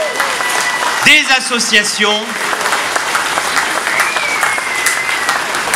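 An outdoor crowd at a town pork festival in Hayange applauds the volunteers, a steady wash of clapping that continues after a brief spoken phrase at the start.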